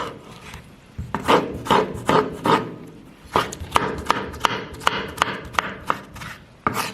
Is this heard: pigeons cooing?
no